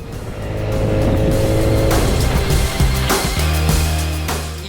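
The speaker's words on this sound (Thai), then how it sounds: "เสียงเครื่องยนต์ตอนเร่งออกเนี่ย มันเร้าใจมาก" An Italjet Dragster 300 scooter engine accelerates, a loud, sustained engine roar with rising tones and intake noise, heard alone without talk.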